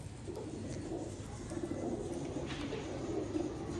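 Soft pigeon cooing repeats through a steady hum of background noise, the calls low and muffled, fairly close but never loud.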